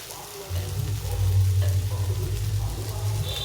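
Potato and eggplant pieces frying together in oil in a pan, a steady close sizzle that swells after a quiet start and holds loud and even, with no voices over it.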